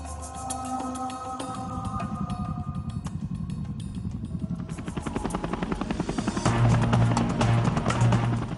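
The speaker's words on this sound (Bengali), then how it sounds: "হেলিকপ্টার, একটা হেলিকপ্টার এগিয়ে আসছে।" A helicopter approaching, its rotor chop building from a distant throb into a loud, rapid thumping that grows steadily nearer and stronger, with no voices over it.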